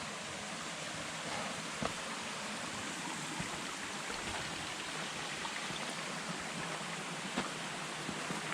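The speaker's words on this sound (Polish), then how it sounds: "Słyszę potok." A small mountain stream cascades down a rocky hiking trail on Corsica, making a steady, close rushing hiss of water with faint occasional clicks.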